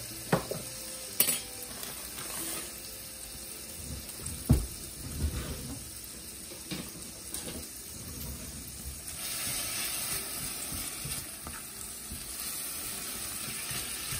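Peppers and onions frying in a pan, a quiet steady sizzle with utensil stirring and a few sharp clinks against the pan, close by and without talking.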